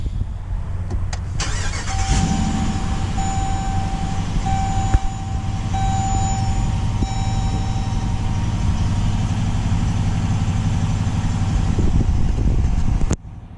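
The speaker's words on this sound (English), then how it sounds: "All you have to do is put your foot on the brake and hit the button to start the engine." A 2021 Dodge Durango R/T starts with a brief crank and then settles into a steady idle close by, while a chime beeps repeatedly in the cabin.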